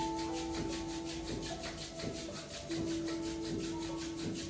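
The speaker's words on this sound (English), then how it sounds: "Rub your palm and make a heat." Palms rubbed briskly together to build warmth during a yoga class, a soft, steady rhythmic swishing friction sound repeating evenly, faint and close, with a quiet tonal hum underneath.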